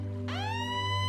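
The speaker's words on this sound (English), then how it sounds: "suddenly an alarm went off" A submarine alarm siren sounds over a low steady hum, a single rising wail that starts abruptly and holds loud and close for about a second.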